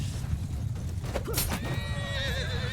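A horse neighs in a medieval video game battle, with a sharp rising whinny that trails into a wavering call over a low rumble of combat noise, and no speech.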